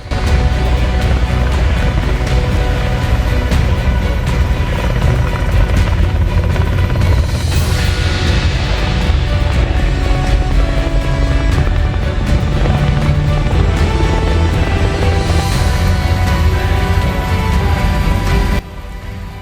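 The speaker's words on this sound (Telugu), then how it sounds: "అమెరికన్ నేవీ షిప్స్ నుండి స్పెషల్ ఆపరేషన్ హెలికాప్టర్స్ గాల్లోకి లేచాయి" Special operations helicopters from US Navy ships fly low over the sea, a loud, steady, continuous roar of rotors and engines filling the scene without pause, dropping away abruptly near the end.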